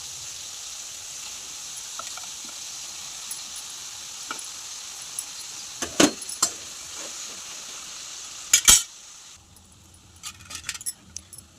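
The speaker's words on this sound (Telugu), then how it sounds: "ఆయిల్ కొంచెం వేడయ్యాక మనమైతే కట్ చేసిన బీరకాయలు అయితే వేసేసుకుందాం" Ridge gourd, tomatoes and green chillies fry in hot oil with a faint, steady sizzle, broken by a few sharp metallic clinks and scrapes of a utensil against the pan.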